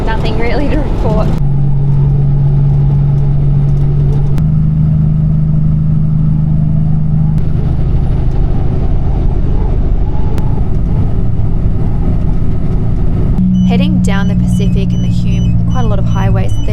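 A Kenworth T909 truck drives on a dry highway, its engine giving a loud, steady low drone with shifting tones throughout. The drone runs continuously, with no speech heard.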